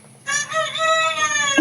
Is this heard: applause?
no